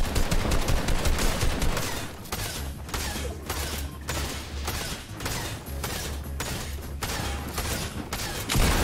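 Gunshots in the video game Fortnite: clustered bursts of loud fire repeating in an uneven rhythm, with a heavy low rumble underneath that continues throughout.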